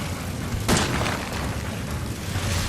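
A single loud shotgun blast in the survival horror game Resident Evil 7, a sharp booming report followed by a short rumbling tail over a steady low game background, with no talking.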